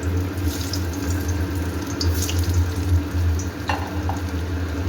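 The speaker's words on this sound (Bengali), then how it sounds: "ভালো করে লাল লাল করে আমি ভেজে নামিয়ে রাখছি।" Soybean koftas frying in oil over a low flame make a steady, dense crackling sizzle with a low hum underneath and a few faint clicks, close and constant throughout.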